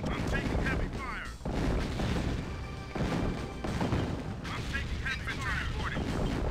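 Heavy gunfire and artillery from a C&C Tiberian Sun skirmish pound continuously and loudly as dense rumbling blasts, while unit voices talk over the din.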